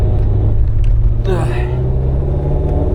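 Supercharged Corvette C6 Z06 with no traction control, idling with a steady, loud low rumble throughout, and a brief rising whine partway through.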